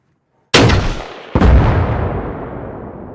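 Two heavy weapon shots strike a BTR armored vehicle in the video game Arma Reforger, a sharp loud blast followed about a second later by a second impact, each trailing off in a long rumbling decay.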